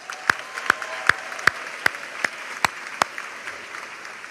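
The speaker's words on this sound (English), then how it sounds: "Join me in thanking them with a round of applause." Slow, evenly spaced claps, about eight sharp hand claps close by, mark a round of applause at a fall university graduation ceremony, with no crowd roar behind them.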